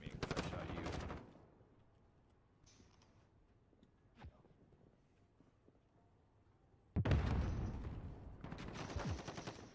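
Loud bursts of automatic gunfire in Call of Duty: a rapid volley opens, then a long near-quiet stretch with a lone crack, before a second sustained, heavy burst of machine-gun fire.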